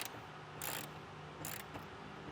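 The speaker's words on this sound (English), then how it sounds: "grab your 11mm socket and wrench and tighten it down the rest of the way" A ratchet wrench with an 11mm socket tightens a bolt while a retractable hard tonneau cover is fitted to a pickup: close, quiet bursts of ratcheting clicks come in short strokes with pauses between, no talking.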